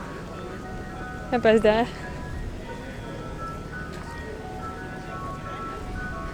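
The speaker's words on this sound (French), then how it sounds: "Il y a un petit camion de glace qui fait de la musique" A small ice cream truck on Tenerife plays a short, bright melodic chime that rises briefly over outdoor ambience and then fades, while people talk nearby.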